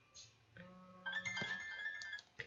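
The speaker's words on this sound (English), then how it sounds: "oops, sorry, that's my phone." A mobile phone rings during an acids and bases lesson, a bright repeating electronic tone rising over quieter tones, fairly close and clear with no talking.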